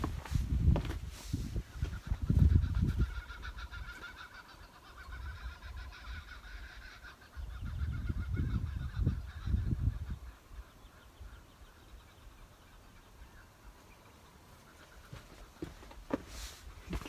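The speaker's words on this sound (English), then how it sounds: "Those kookaburras starting up now." Kookaburras call near a river below a cliff with a few trees, their raucous cackling arriving in two loud bursts separated by quieter outdoor ambience.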